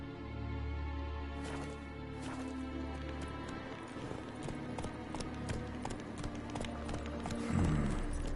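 Roach the horse's hooves clip-clopping in The Witcher 3 Wild Hunt, a steady trotting rhythm of close, crisp hoof strikes over a low ambient game backdrop.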